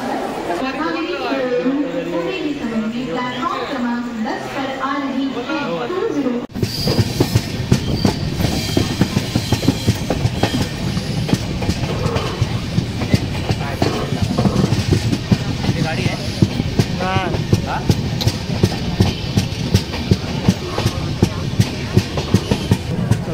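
Crowded moving train in Konkan during the Ganesh festival season, heading toward Sindhudurg: constant rumbling rail noise with rhythmic clatter underneath a dense, close babble of passengers' chatter throughout.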